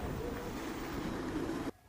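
Ocean waves surge and rush with wind as a ship sails on open sea, a loud, steady wash of water that cuts off abruptly near the end.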